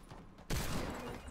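Gunfire in a video game erupts abruptly after a quiet moment, a dense loud burst of shots that holds steady to the end, no voices.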